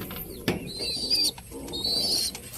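A pigeon being handled during a squab harvest, giving soft, short coos close by amid rustling and a sharp knock, with brief higher chirps and faint flapping.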